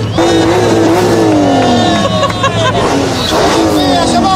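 Car driven hard on sand in Saudi Arabia with a woman at the wheel, tires spinning and squealing as the engine revs loudly and steadily throughout, with a crowd of people chattering and calling out nearby.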